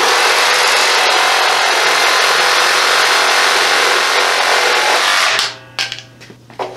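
Hercules brushless reciprocating saw ripping through a 4x6 wooden beam, a loud, continuous harsh rasp that stops abruptly near the end, followed by a few faint clunks.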